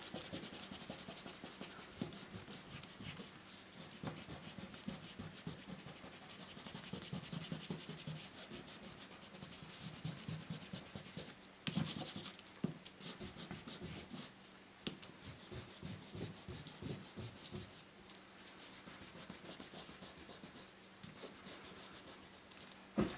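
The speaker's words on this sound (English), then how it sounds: "I'm going to erase all of these pencil lines." Steady scratchy rubbing of an eraser across watercolor paper as pencil lines are removed, quiet and close, with repeated short back-and-forth strokes over about twenty seconds and no talking.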